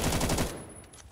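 Rapid automatic gunfire from the Roblox shooter Phantom Forces, a dense burst of close, loud shots that stops abruptly midway, leaving a fading tail.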